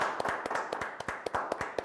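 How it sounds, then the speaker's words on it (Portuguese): Hands clap quickly and evenly in a small group, celebrating Ovechkin's NHL goal-scoring record. The claps are close and crisp, with no talk over them. "Aplausos!"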